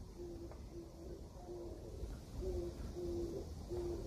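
A person's voice imitates a bird call with a series of short, soft, hooting coos repeated at an uneven pace over a dull background hum.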